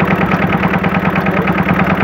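Yanmar power tiller engine running steadily with the rotary engaged, a loud, close, even mechanical drone with a fast regular pulse and no talk over it.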